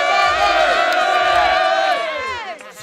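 A crowd at a hip hop battle roars and cheers loudly for nearly three seconds, a dense wall of shouting voices that tails off toward the end.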